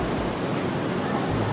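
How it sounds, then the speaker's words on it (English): A waterfall near sulfur hot springs pours as a dense, steady broadband rush, loud and close, with no voices. "We are going to make our way up the waterfalls, see what we can see."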